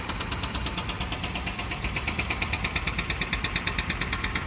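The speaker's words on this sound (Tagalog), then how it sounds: "At ang dami ditong ginagawang konstruksyon." A jackhammer at a construction site on a Barcelona street hammers in a fast, steady rapid-fire rhythm, loud and continuous against an engine-like rumble, with no talking.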